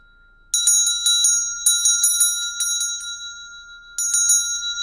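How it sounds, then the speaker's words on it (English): A small Tibetan bell rung in quick repeated bursts, its bright, clear metallic tones ringing on and fading between strikes, close and loud against a silent background, with a final strike near the end. "I'm going to ring this little bell, Tibetan bell"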